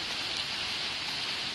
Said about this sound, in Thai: นี่ค่ะฝนก็ตกดีอยู่นี่ฝนตก